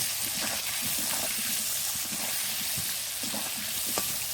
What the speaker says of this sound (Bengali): এবার আলুটা ভালো করে ভেজে নেব